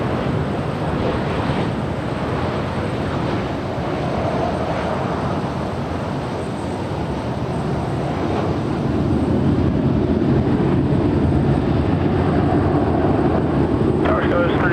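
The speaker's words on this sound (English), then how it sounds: "24 left, cleared for takeoff. Alaska 351" An Alaska Airlines airliner takes off from runway 24 Left at Los Angeles International Airport, a steady loud broadband engine roar that fills the whole stretch and swells slightly toward the end, with faint radio talk beneath it.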